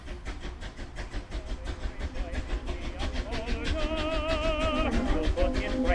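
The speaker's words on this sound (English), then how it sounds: "Slowly, the train pulled away from the station." Train pulling away from a station: a continuous heavy rumble with rhythmic clatter and hissing steam, a rising whistle-like tone joining partway, growing steadily louder.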